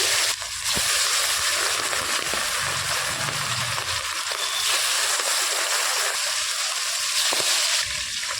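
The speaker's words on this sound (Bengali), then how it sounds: "এবার আমি মাছগুলোকে একে একে ভেজে নেব।" Pieces of hilsa fish frying in hot oil give a loud, steady, close-up sizzle that runs almost the whole time, with a brief dip near the start and a few soft pops.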